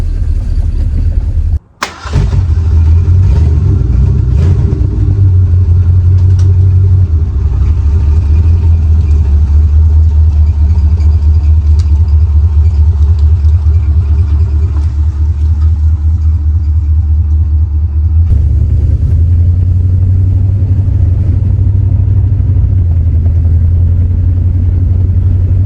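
A 1976 Ford Granada with a gummed-up carburetor runs and drives, its engine a loud, steady low rumble that sputters briefly near the start and dips and recovers partway through, with no talking.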